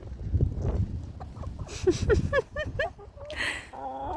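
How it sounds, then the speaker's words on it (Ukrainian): A rooster gives a run of short clucks over background noise and rustling, fairly close. "Півень на стражі, стреж порядку."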